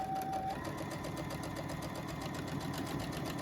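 A sewing machine runs steadily while stitching a shirt seam, a fast even mechanical whir with rapid repeating needle ticks, quiet and close.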